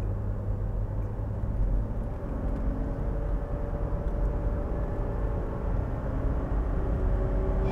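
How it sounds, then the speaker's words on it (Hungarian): A 1987 Mercedes-Benz W126 engine running at a steady, deep idle with a low rumbling drone that stays constant throughout, close by. "Micsoda gyönyörű motorhangja van"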